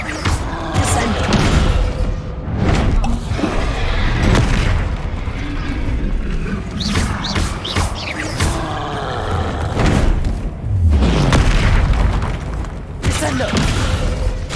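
Hogwarts Legacy Descendo spell effects slam down in repeated heavy booming impacts, loud and close, layered over continuous game sound and magical bursts.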